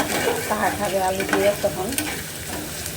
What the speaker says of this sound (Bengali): তো এই যে শোল মাছটা ভুনা করছি